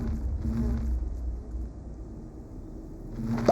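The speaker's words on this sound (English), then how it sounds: "Now that we got our glowing bee, we are going to combine this little feller with our chocolate mining bee." Bees buzzing in the Minecraft modpack All the Mods 9, a steady droning hum that holds through the whole stretch, swelling slightly near the start and end, with no talk.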